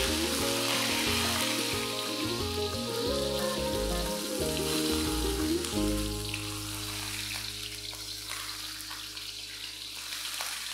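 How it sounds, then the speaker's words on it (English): Fish fries in oil in a pan for a salted bean sauce braise, with a steady, loud hiss and crackle of sizzling and a lower bubbling underneath that thins out partway through. "Flip the fish over and fry it till it's lightly brown as well."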